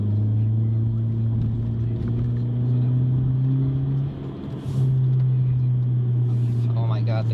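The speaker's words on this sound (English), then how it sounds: "the car sounds so sexy. It sounds beautiful. Just want to rip." Car engine running with a steady low rumble and sustained drone throughout, dipping briefly midway before resuming, loud and close, with people talking over it.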